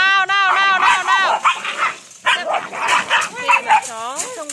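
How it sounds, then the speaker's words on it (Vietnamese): Belgian Shepherd dogs in a pack fight fiercely, with rapid overlapping barks, yelps and snarling whines, loud and close, and people exclaiming in the background. "Khi mà chó trong đàn cắn nhau"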